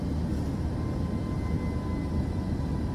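An airplane on ILS approach in Microsoft Flight Simulator 2024 gives a steady, even engine drone with a faint tonal whine, holding at a constant level throughout with no voices.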